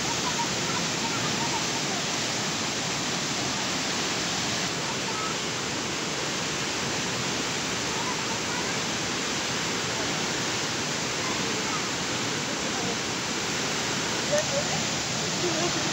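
Randha Falls roars as a steady, loud, broadband rush of falling water, unbroken and close, with no clear voices rising above it.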